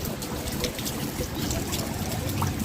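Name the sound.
rainwater trickling on road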